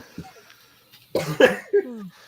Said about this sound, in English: sorry if I'm coughing a bit